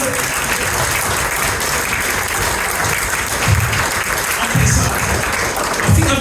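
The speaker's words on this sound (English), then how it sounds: "Give them a big round of applause" Audience at a corporate dinner breaks into sustained applause after a mind-reading act, dense steady clapping throughout with a few louder swells near the end and faint talk underneath.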